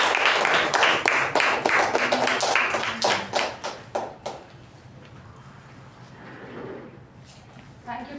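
Audience applause at a Toastmasters meeting welcoming the acting president, steady clapping that thins into scattered claps and dies away, followed by quiet talk.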